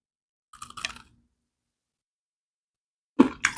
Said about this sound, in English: the crunch is there